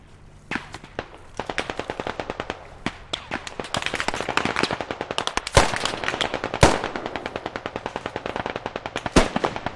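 Sustained automatic machine gun fire in a squad-based military shooter game, dense rapid bursts with occasional louder nearby shots, continuous and close, no speech.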